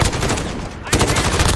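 Rapid automatic fire from an R556 rifle in Call of Duty Modern Warfare, loud and dense, a continuous burst with a brief dip in the middle before resuming at full intensity.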